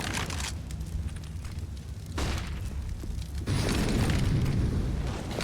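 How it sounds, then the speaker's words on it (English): Explosive booms from a grenade blast in a competitive team-based shooter match, loud bursts at about 2.2 and 3.5 seconds over a dense, steady game din, with no talk. "At the end, he's taking a nade to the chest."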